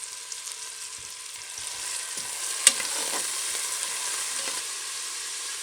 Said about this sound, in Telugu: తర్వాత 2 పావులు నూనె పోసుకొని ఉల్లిపాయలు వేసుకోవాలండి.